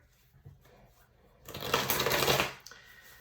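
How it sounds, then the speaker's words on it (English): A deck of tarot cards gets a brisk shuffle, a close riffling burst lasting about a second in the middle, framed by quiet handling sounds before and after, with no speech. "Let's give this a good shuffle."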